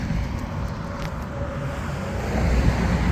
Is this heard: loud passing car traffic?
yes